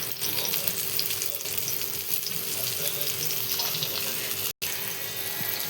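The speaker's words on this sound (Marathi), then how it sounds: "आणि बघा आपल्या मिरच्या तळून झालेले आहेत बघा आता." Green chillies fry in hot oil with a dense, steady sizzle and crackle close up, continuous throughout apart from a brief cut near the end.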